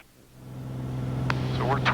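Light aircraft piston engine running steadily at 2,500 RPM with 21.5 inches of manifold pressure, a constant low droning hum throughout, with brief cockpit radio or voice sounds near the end.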